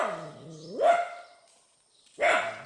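A dog at a Buddhist temple gives two drawn-out, whining barks about a second and a half apart, moderately close, with silence between them.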